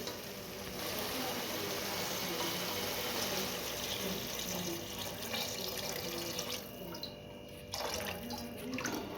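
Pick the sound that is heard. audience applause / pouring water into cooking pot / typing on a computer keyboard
pouring water into cooking pot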